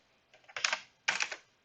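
Brief bursts of typing on a computer keyboard while coding a web page, two short clusters of rapid key clicks close to the microphone with a pause between them.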